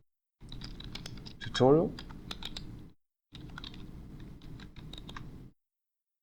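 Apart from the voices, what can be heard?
typing Python code on a computer keyboard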